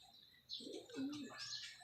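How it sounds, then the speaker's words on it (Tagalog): Pigeons flying past on an early training flight, giving soft low cooing mixed with higher chirps and faint wing flutter, heard faintly and from some distance. "Ito, ang dami mga kalapatids."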